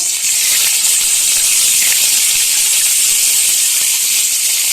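Bay leaf, dried chilli and cumin hitting hot oil in a pan, a loud, steady, close hiss of sizzling that holds evenly throughout with no voices.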